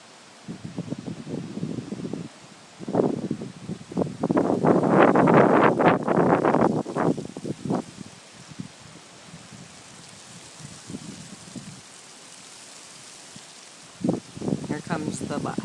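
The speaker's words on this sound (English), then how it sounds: "Leaves are blowing everywhere like snow." Gusty wind sweeping fallen leaves along a street in light rain, rising in loud rushing bursts and rustles that swell and fade, with wind buffeting the microphone.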